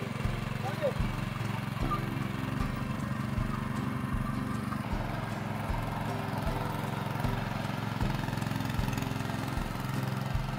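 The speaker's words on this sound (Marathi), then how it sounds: "याला आमच्याकडे मित्रांनो रोटर बी बोलतात आणि ट्रॅक्टर बी बोलतात" A tractor fitted with a rotavator works a rice field in Konkan at sowing time, its engine throbbing in a steady, even rhythm at moderate distance throughout, with no pauses.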